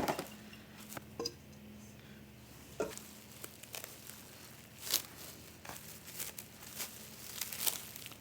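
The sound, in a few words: pie dough being wrapped in saran wrap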